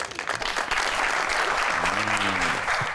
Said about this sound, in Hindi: जल्मी के जरा सपोर्टर्स जरा तालियां बजाएं।